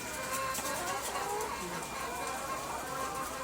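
Hens cluck and murmur in a coop on a Thai egg farm, a soft continuous chorus of overlapping calls at moderate distance under faint background noise.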